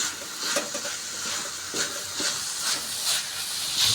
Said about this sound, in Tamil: இந்த காரம் ஏறுற வரைக்கும் ஒரு 2 நிமிஷம் நல்லா பரட்டி விட்டுக்கிட்டே இருங்க.